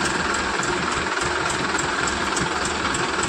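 A heavy diesel JCB engine idles loudly nearby, a steady rumbling drone with a faint rhythmic knock throughout.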